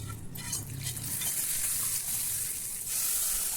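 Hot tempering poured into a pot of boiling rasam, giving a steady close sizzle and bubbling hiss that runs the whole time, swelling briefly near the end.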